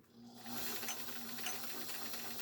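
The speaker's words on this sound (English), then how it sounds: "Now you can see the needle bar moving back and forth as it zigzags." A Bernina 730 Record sewing machine stitching its widest zigzag, starting after a brief pause and then running at a steady fast whir with a rapid rhythmic needle clatter and a constant motor hum.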